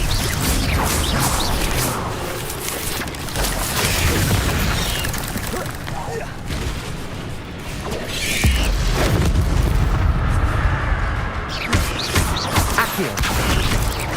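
Fire spell cast during Hogwarts Legacy gameplay, a dense run of booming magical blasts, whooshes and crashes that fill the mix continuously at high level, with a voice speaking over the effects.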